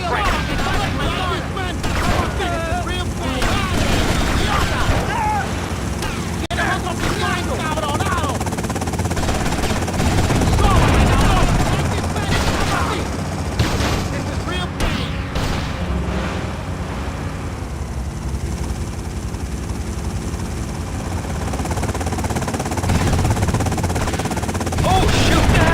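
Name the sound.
helicopter and gunfire in Grand Theft Auto Vice City video game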